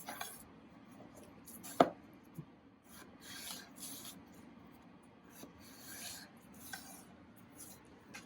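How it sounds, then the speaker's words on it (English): A kitchen knife slices Idaho potatoes into wedges on a cutting board, giving quiet, irregular chops and scraping rubs with one sharper thunk near the start. "Basically I just cut it in half, and then I'm cutting it in thirds."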